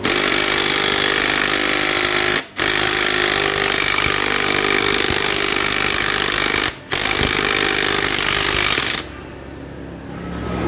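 A pneumatic impact wrench hammers loudly on motorcycle bolts in a continuous rattling burst, cut by two short pauses before the noise drops away near the end.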